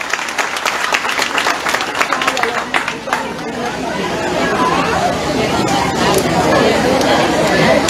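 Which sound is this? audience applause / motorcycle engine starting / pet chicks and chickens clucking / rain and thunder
audience applause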